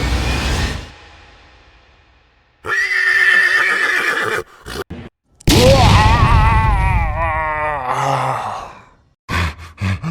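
A cartoon horse gives loud, close whinnies and neighs in several bursts separated by brief silences, with grunting and sighing snorts in between.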